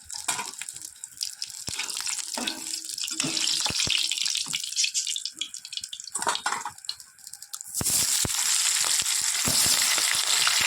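Fish frying in hot oil, close continuous sizzling and spitting that swells louder toward the end, with faint clinks and no speech.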